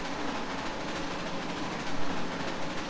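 A video game SP MK5 2-8-2 steam locomotive running at speed in Trainz 2019, a dense continuous rushing chuff with faint rhythmic rail clatter, steady and loud throughout.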